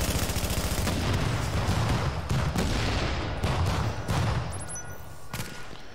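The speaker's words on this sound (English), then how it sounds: "is a deployable turret. I can deploy this turret out. It automatically looks for targets." A deployable automatic turret in The Division video game fires a sustained, dense burst of rapid gunfire with heavy impacts and booms mixed in, loud and continuous throughout.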